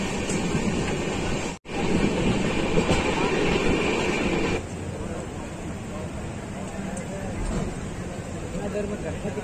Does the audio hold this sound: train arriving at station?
yes